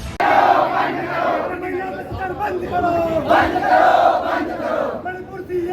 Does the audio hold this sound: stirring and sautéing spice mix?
no